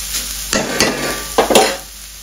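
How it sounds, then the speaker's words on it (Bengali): A spoon or spatula scrapes and stirs moringa leaves frying in a pan, three or four loud close strokes over a steady soft sizzle. "এবার খুব ভালো করে নেড়ে দিতে হবে"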